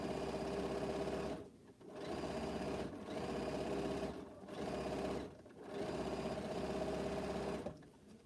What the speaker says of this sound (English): I'm just randomly sewing these together.